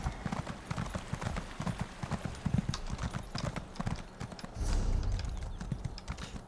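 Rhythmic clip-clop of a horse's hooves at full gallop in The Elder Scrolls Online, fast and steady in the foreground, with a brief louder rumble near the end and no speech.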